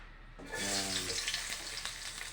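Turmeric, chili, onion and garlic hit a hot pan for a Filipino sauté, bursting into a loud sizzle after a short quiet moment, then crackling and hissing steadily close by.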